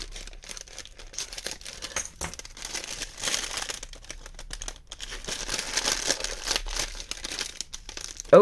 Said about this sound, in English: I want to try and open this without ripping all her lovely information